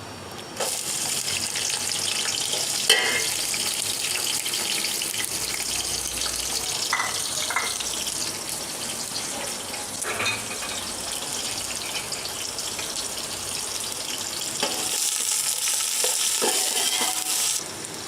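Onions fry in oil for a biryani with bay leaf, cloves and black peppercorns, giving a steady, loud broadband sizzle with a few scraping stirs, swelling again near the end, no voices.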